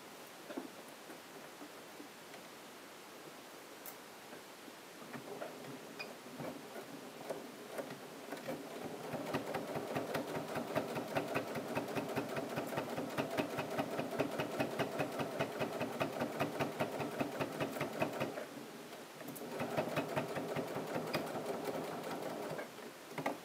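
Sewing machine running close by, stitching about 1 mm from the edge of a piped welt pocket, starting with a quieter stretch and then a steady, even run of rapid needle ticks, with a short pause near the end before it resumes.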